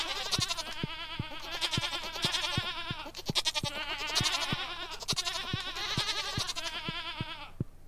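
Goats in the Stardew Valley farming game bleat repeatedly in wavering calls, set over a steady rhythmic ticking pulse of game music, loud and continuous throughout.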